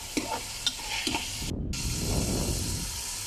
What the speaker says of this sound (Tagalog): I-mix ulit natin.